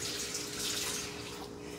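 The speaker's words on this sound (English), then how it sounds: "Wash my hands." Water runs steadily from a tap during handwashing, a continuous close hiss and splash with no talk.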